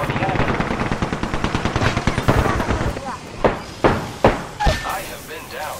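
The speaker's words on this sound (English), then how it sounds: "Opening fire on the enemy." Video game gunfire: a dense automatic burst rattles for about three seconds, then gives way to several separate heavy shots spaced roughly half a second apart, loud and close.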